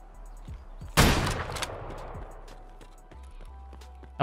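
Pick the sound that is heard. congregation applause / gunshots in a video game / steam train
gunshots in a video game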